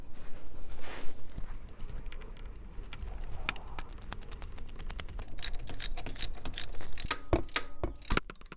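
A hex tool tightens bolts on a Boomba Racing blow off valve adapter on an EcoBoost Mustang, giving a run of small metallic clicks and ratcheting ticks that grow denser near the end, with no talk.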